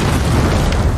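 A frag grenade goes off in a military video game, a single loud, close boom that fills the whole second with a dense, rumbling blast and no voices over it.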